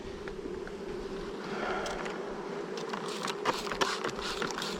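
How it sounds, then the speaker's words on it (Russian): A wasp buzzing at a beehive among honey bees, a faint continuous droning hum with small clicks and rustles near the frames, no talk. "Прилетела оса."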